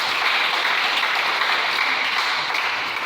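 A church congregation claps in a dense, steady wash of applause that holds at full strength throughout, loud and enveloping with no break.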